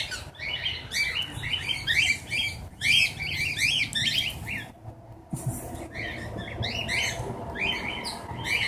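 Small pet birds being hand-fed chirp and tweet in rapid, busy bursts nearby, with brief pauses and light squawks between the flurries.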